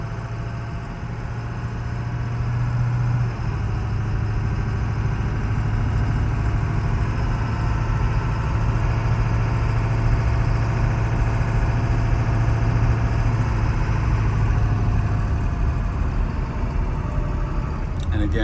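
A 2000 Ford Excursion Limited 4x4 with the 7.3 engine idles close by with a steady, deep diesel rumble and a droning low hum that holds evenly throughout.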